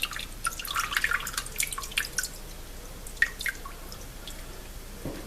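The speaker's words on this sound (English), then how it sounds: "I'm going to drain that water." Water drips and trickles off a papermaking mold as it is tipped to drain, a close run of small, quick splashes that is busiest at first and thins to scattered drops.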